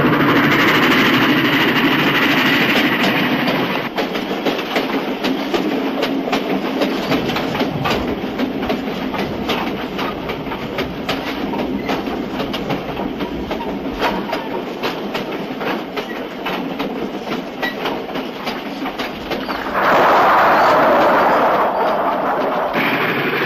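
A moving freight train with a passenger car coupled to it rumbles along the rails, with a steady rhythmic clickety-clack of wheels over rail joints that is loud, close and continuous throughout.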